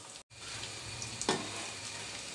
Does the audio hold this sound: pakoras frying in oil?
yes